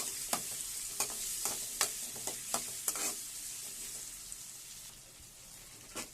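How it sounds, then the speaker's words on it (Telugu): Potatoes are mixed with softened onions in a frying pan, with rhythmic spoon scrapes and taps landing about every half second over a low sizzle. The stirring fades after a few seconds, leaving a quieter frying hiss. "బంగాళదుంప వేసేసుకొని మంచిగా కలిపేసుకోవాలి."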